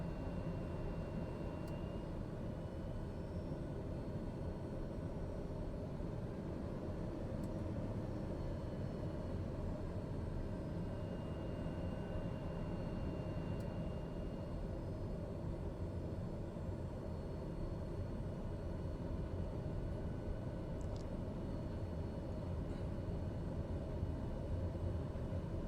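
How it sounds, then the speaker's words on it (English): A steady, low engine drone from an aircraft taxiing toward the runway in Microsoft Flight Simulator 2020 runs unbroken throughout, even and moderately loud, with no talk. "I'm going to taxi out to the departure end of the runway."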